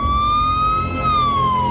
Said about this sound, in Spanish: Al oír las sirenas de la policía